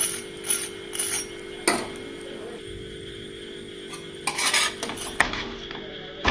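Bread toast with curd and garlic being flipped on a hot tawa, with metallic spatula scrapes and clinks against the pan over a steady sizzle, a few sharp taps near the end.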